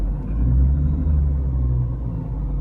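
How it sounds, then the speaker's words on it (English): A car engine idles and is revved a little while still cold, a close, loud, low rumble that rises and swells briefly before settling back, with no talking. "you can see the RPMs go up as I rev it"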